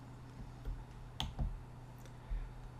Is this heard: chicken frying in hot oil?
no